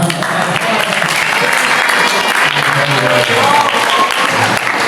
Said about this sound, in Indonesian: Tapi saya tepuk tangan buat Demira